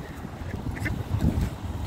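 Ducks gathering to be fed in winter by a feeder, their close quacks sounding in short bursts over a low rumble of wind and handling noise, with no voices.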